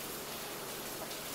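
Rain falls steadily outside a house, a soft, even hiss of drops with no pauses, fairly faint and uninterrupted across the short stretch.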